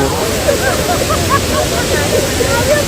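The Chitrakoot waterfall roars as a loud, constant wash of rushing water, heard up close from a boat approaching it. Faint voices may sit beneath the roar.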